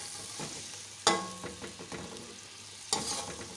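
Whole black pepper, cloves and cinnamon frying in oil for Delhi-style pulao, a soft steady sizzle with a few sharp stirring clanks and scrapes of a spoon against the pot.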